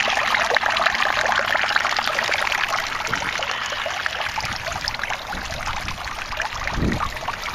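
Water spills continuously from an overflow in an aquaponics system, a close, steady splashing trickle with a brief low gurgle near the end.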